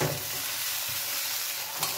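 Okra and egg fry in a pan with a steady, close hiss of sizzling oil and faint stirring scrapes throughout, with no talking.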